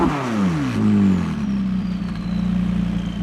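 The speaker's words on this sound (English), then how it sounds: "Take a listen to the 675LT's exhaust note." A McLaren 675LT supercar's exhaust drops from a loud rev into a deep, throbbing idle, close and alone with no talking.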